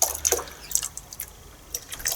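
A drop of industrial grade vinegar is poured into dye, giving a few small, close liquid drips and splashes, short and quiet, with brief pauses between them.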